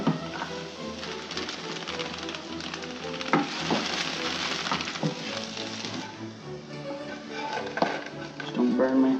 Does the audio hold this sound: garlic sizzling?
yes